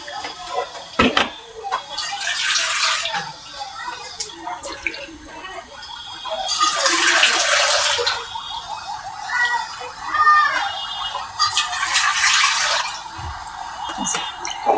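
Water is poured into a pan of shol fish curry in three separate splashing bursts, with dripping and faint kitchen clatter in between.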